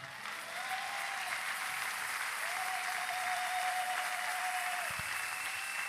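A church congregation at a morning fasting and prayer service claps steadily, continuous dense applause at moderate distance with faint tones running beneath.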